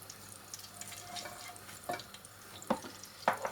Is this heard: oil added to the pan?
yes